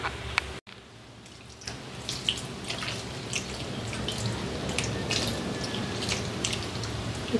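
Water is poured over jaggery in a vessel to make syrup, a close soft trickle with scattered drips and splashes that settles into a steady flow after a brief clunk, with no talk.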